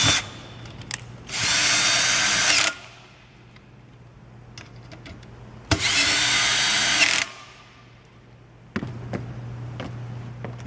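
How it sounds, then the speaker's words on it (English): An electric screwdriver drives screws snugly into a U-shaped base in two sustained whirring runs, each about one and a half seconds long. A third, quieter run of motor noise follows, with light clicks and handling sounds in between. "use the 3/8 hand wrench or an electric screwdriver to tighten the screws snugly down to the base"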